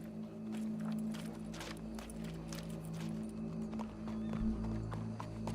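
Horse hooves clip-clop in Red Dead 2 as a quiet, uneven run of hoofbeats over a steady low hum and game music, with faint talk in the background.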